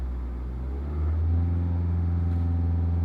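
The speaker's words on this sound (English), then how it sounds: "rev it up a little." A car engine idling, then revved gently. The steady low rumble rises at about one second and holds at a raised, even pitch, close and loud with no voices.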